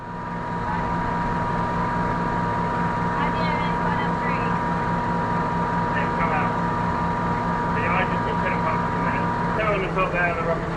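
A tractor engine runs at a steady idle close by, a constant droning hum with a strong low tonal throb, while people talk over it.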